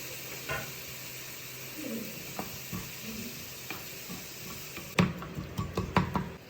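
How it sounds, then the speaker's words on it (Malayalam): Onions sizzle in the same pan used to fry chicken for butter chicken, with a steady hiss under scattered stirring scrapes. The scrapes grow louder and clatter more near the end. "ആദ്യം നമ്മൾ ഒനിയന് നമ്മൾ ചിക്കൻ വറുത്ത അതേ പാത്രത്തിലോട്ട് തന്നെയാണ് ഇടുന്നത്."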